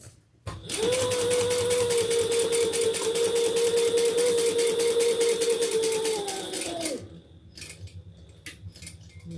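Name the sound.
sewing machine back-stitching a handbag lining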